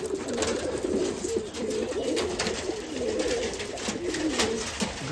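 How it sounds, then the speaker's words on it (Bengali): Black Rajshahi Giribaz pigeons cooing in a loft, with repeated soft, rolling coos overlapping throughout, close and fairly steady over a faint background hiss, with no voices. "কালো কবুতর কালো কবুতর কিন্তু এই কালোর মধ্যে দুইটা হলও আছে"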